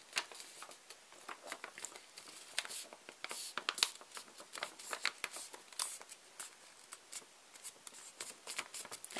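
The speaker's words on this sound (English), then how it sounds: "I'm on number 3 of folding these corners in." Paper corners folded in one after another while shaping an origami rose, a quiet run of close crisp rustles and soft creases that keep going, with no talking.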